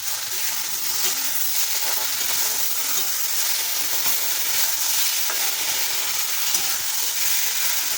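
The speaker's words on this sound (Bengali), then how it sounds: "লোটে মাছটা দিয়ে একটু নেড়ে নেবো" Bombay duck (lote fish) stirred as it fries in a pan with spices, giving a steady, close sizzle with soft scraping stirs and no talking.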